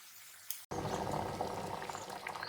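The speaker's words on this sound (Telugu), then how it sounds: "పప్పు బాగా ఉడుకుతుంది." Dal in a pot boiling vigorously, a dense bubbling and popping heard close up. It starts after a short quiet moment and a brief cut, then carries on steadily.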